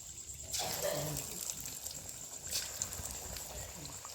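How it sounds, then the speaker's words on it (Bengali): Chicken pakoras drop into mildly warm oil and fry with a faint, steady sizzling hiss that starts suddenly and continues quietly with small crackles. "তেলটি আমি খুব বেশি গরম করিনি, হালকা গরম অবস্থায় আমি পকোড়াগুলি ছেড়ে দেব।"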